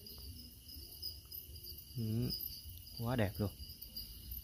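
Crickets at a cricket farm chirp as a steady high buzzing trill throughout, with a voice speaking briefly over it in two short bursts.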